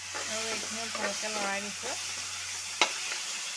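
Broad steady sizzle from a wok where drumstick leaves are being stir-fried for an Assamese dish, with a voice talking over it and one sharp clank of a utensil near the end.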